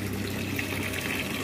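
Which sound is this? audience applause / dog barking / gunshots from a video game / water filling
water filling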